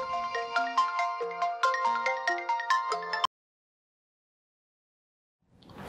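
A mobile phone ringtone plays a bright, bouncy electronic melody of rapid repeating notes, loud and clear for about three seconds, then stops abruptly into silence before a faint noise rises at the end.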